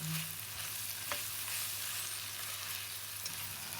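Steady sizzling and frying of spices in a frying pan with faint scraping of stirring, a continuous hiss throughout.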